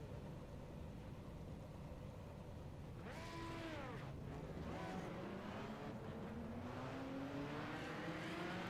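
Sports race cars roll out onto the track at Indianapolis, faint engines rising in pitch as they accelerate, several overlapping revving tones building from the middle onward.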